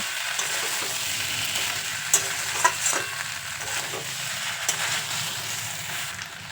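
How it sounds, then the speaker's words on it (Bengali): Sukto vegetables stirred in a hot pan with salt and roasted ground spices, a continuous close sizzle broken by a few scraping, clinking strokes of the spoon. "মশলাটা দেওয়ার পর সমস্ত কিছু খুব ভালো করে নেড়ে ছেড়ে মিশিয়ে নেবো"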